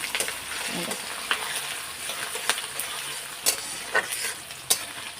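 Grated coconut frying in a pan gives a steady close sizzle, broken by light scrapes and clicks as it is stirred, with no voices.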